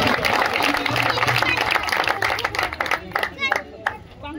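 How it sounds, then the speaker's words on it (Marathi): Villagers clap together at a ceremony unveiling a Chhatrapati Shivaji Maharaj memorial in Karli, a close burst of applause that thins out and gives way to someone speaking. "जोरदार टाळ्या सर्व गावकऱ्यांसाठी सुद्धा."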